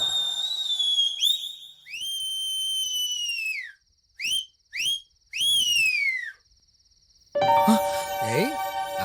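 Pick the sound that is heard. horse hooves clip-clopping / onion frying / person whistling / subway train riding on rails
person whistling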